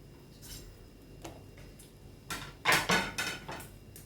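Cluster beans for aviyal drop into a metal cooking vessel, making a few light clinks and taps, then a louder burst of clattering rattles near the end, close and without talk.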